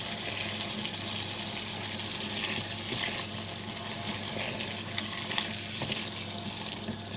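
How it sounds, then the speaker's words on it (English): King prawns stirred into a sizzling Bangladeshi masala for a bhuna curry make a steady, dense frying hiss with soft scraping stirs, continuous and close, no voices. "So mix the prawn into everything properly."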